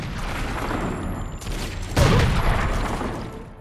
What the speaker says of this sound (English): there's all gunfire out there